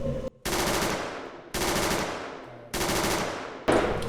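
Sustained automatic bursts from an auto pistol in a Unity-built video game, four long loud volleys of rapid fire separated by brief gaps, no talk.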